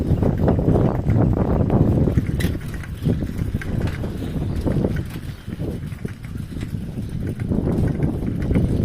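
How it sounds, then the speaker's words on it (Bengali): Gusty outdoor wind buffets the microphone with a steady, loud rumble and rushing bursts throughout, as rain clouds gather. "বাট হাওয়াও দিচ্ছে"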